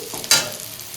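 Onions and green chillies fry in a pan, heard as a short, bright sizzle that flares up suddenly, stays close and fairly loud, then fades back into a low hiss within a second.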